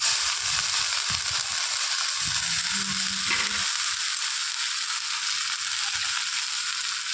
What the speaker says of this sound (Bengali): কড়াইতে তেল দিয়ে দিলাম, এবার কড়াইশুঁটির পেস্টটা দিয়ে দিলাম।